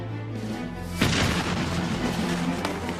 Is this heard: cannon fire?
yes